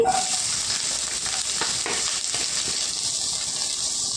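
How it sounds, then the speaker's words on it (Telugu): Sliced onions and green chillies fry in oil in a pan for cauliflower manchurian, a dense close hiss with a few brief stirring scrapes near the start that settles into a smooth sizzle. "ఇవి వేగాలండి ఉల్లిపాయలు"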